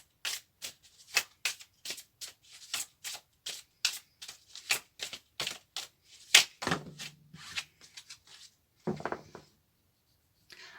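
Tarot-style cards are riffled and flicked in quick, crisp bursts, close and quiet, with a couple of softer slides as cards are drawn toward the end.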